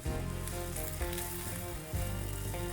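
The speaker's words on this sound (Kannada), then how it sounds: "ನೋಡ್ಬೋದು ಈಗ ದೋಸೆ ಬ್ರೌನ್ ಕಲರ್ ಆಗೋದಕ್ಕೆ ಶುರುವಾಗಿದೆ" Rava dosa batter sizzling and frying on a hot pan, a dense continuous crackling hiss that stays loud and close throughout with no talking.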